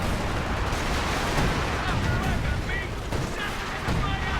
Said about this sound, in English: we've got sector assault artillery coming down